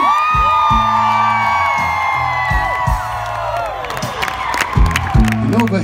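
A festival crowd at a live country show screams and cheers, a loud sustained roar of whoops and shouts layered with music and a host's voice on stage.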